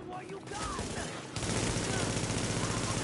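Sustained automatic gunfire from the video game The Division, a dense rattling fusillade that grows louder and steadier partway through, with no voices over it.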